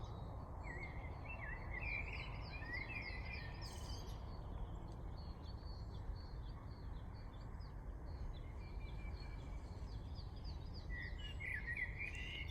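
A blackbird sings in varied, repeated phrases over a steady low rumble of distant traffic, with occasional chirps from other birds.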